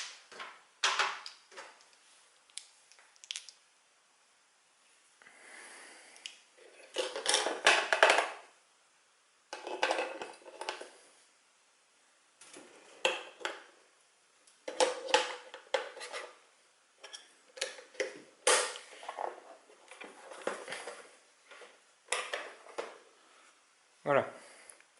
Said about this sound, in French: On va donc rajouter les piles.